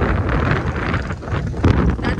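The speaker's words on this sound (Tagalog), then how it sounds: "Ay, naku naman yung hangin talaga. Napakalakas." Strong wind buffets the microphone continuously outdoors at a Fazzio scooter Unity Tambike event, a loud broadband rumble that swells and dips throughout with no speech.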